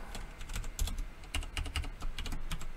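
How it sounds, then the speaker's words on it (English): Rapid computer keyboard typing while entering code for an RPG game project, with irregular bursts of close, crisp key clicks and a few brief pauses, and no voices. "So we just type start coroutine toggle off"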